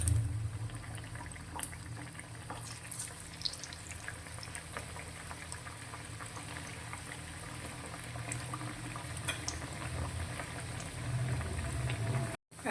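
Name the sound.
onion tikdi bhajiya frying in hot oil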